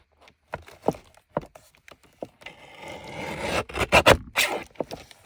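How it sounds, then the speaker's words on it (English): Card paper is cut for vintage car themed masterboard tags, first as a series of short sharp snips, then a longer rasping run of cutting and scraping, close and fairly quiet. "So for this one, I want to cut here"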